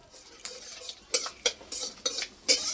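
Panch phoron and bay leaf hitting hot mustard oil in a kadai, heard as sharp crackling bursts and spatters in irregular clusters, fairly close and loud, with no voices.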